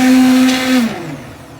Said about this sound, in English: So I'm going to use a hand blender, so it will give a nice buttery look.